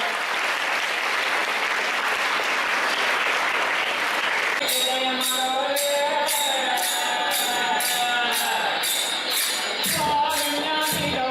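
A crowd at a school Kannada Rajyotsava celebration claps loudly for about five seconds, then music starts and carries on to the end.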